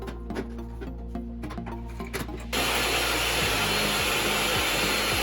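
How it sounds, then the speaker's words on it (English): A table saw rips plywood shelf pieces to near-final size: the motor hums with scattered knocks, then the blade bites in at about 2.5 seconds and a loud, steady broadband cutting roar holds to the end. "Using the table saw, the shelf pieces are cut closer to final dimension"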